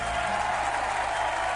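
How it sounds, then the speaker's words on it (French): Studio audience on a French television singing game show claps steadily, a dense, even wash of applause with no pauses. "une envolée d'applaudissements"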